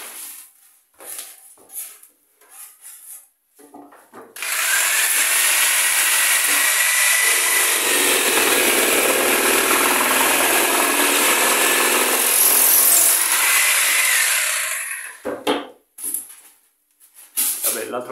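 A jigsaw fitted with a Bosch T 313 AW foam-cutting blade makes a curved cut through foam, giving about ten seconds of steady, loud, close buzzing that starts abruptly and cuts off, with quieter handling sounds before and after.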